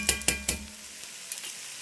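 Chicken cacciatore with vegetables cooks in a pan. Three quick scraping stirs come first, then a steady soft sizzle continues alone with a couple of faint clinks.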